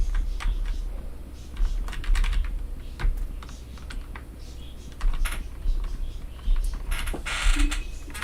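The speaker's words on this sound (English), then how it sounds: "it's just the keyboard, you know, movement. It's a very loud keyboard." Rapid, loud clacking of a computer keyboard being typed on, bursts of keystrokes close up with uneven rhythm and short pauses, no talking.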